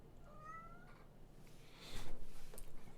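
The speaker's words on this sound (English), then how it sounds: "Cat right on cue." A house cat meows nearby during a quiet indoor painting session, with a short rising call early on and a louder burst of sound near the end.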